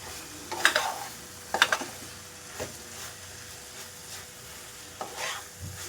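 Torn chapati pieces are stirred into water coming to a boil in a pan for kothu chapati. Several distinct scraping strokes of a spatula, spaced a second or so apart, sound over a soft sizzle with no voices.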